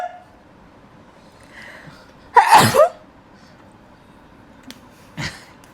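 A single loud, explosive sneeze from a woman stands out against a quiet room, followed a few seconds later by a softer short noise.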